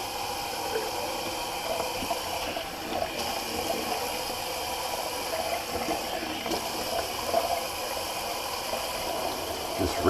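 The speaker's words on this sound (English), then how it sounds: "Just rinse that off my face." Running water rinses a face during a wet shave, a steady soft splashing and trickle close by that carries through the whole stretch at low level.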